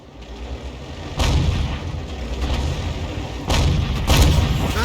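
An M10 RBFM tank's main gun fires in a video game, with heavy booms landing near 1.2 and 3.5 seconds over a constant rumble of engine and battlefield noise, with no talk.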